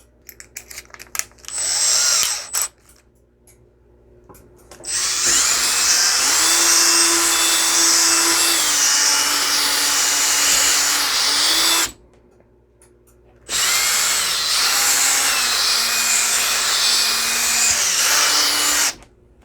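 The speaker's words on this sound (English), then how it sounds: "I'm going to use this drill bit to take a little bit of material out" A power drill whines loudly in two long bursts, its bit grinding steadily into wood with a brief pause between, after a few short taps and clicks.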